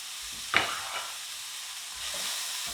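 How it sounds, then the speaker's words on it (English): Onions sizzle quietly in a frying pan as a spoon stirs them, with one sharp scrape near the start over a soft, steady fry. "I'm going to give it a stir."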